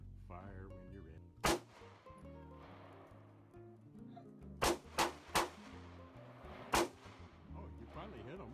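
Sharp gunshots from a VP9 pistol fired outdoors at a target about five feet away, one early report followed by a tight group of three and then one more, loud and close, with faint talk between the shots.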